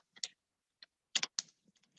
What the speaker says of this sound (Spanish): Digitamos en el campo libre la información correspondiente.